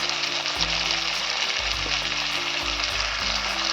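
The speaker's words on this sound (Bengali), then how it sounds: "দিয়ে ভালো করে আমি মশলাটাকে কষিয়ে নেব" Ground coriander, cumin, turmeric and Kashmiri chilli frying in hot oil in a pan for a rohu fish curry with drumsticks, a loud, steady close sizzle throughout with no talk.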